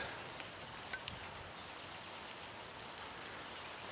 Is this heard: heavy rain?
yes